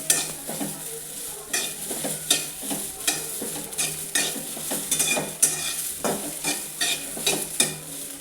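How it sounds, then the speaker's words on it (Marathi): Cluster beans (guar) dry-roasting and stir-frying in a pan, village style: a steady run of loud, close scraping strokes with a continuous sizzle underneath and no talking. "मस्त ती चार पाच मिनटं चांगली गवार भाजून घ्यायचं"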